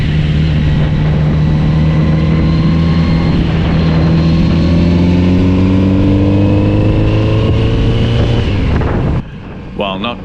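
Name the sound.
Kawasaki Z900RS four-cylinder motorcycle exhaust while riding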